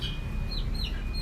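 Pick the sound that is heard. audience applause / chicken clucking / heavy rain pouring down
chicken clucking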